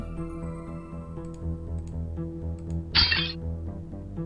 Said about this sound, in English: A section of the glass tubing has fractured from combined stress.